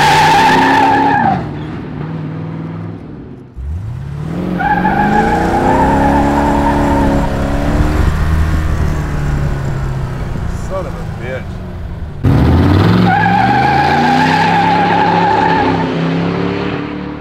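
A 1967 Shelby Cobra 427 does burnouts and donuts, its big V8 roaring and revving in rising and falling sweeps while the tires squeal and skid, loud and close, with a short lull partway through and voices mixed in.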